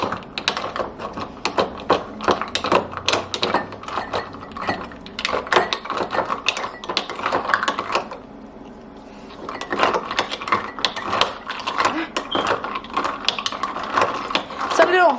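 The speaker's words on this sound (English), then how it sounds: "now I'm gonna mix it with a spoon" A spoon stirs iced coffee in a glass, producing rapid, repeated clinks and scrapes close up, with a brief pause midway before the clinking resumes.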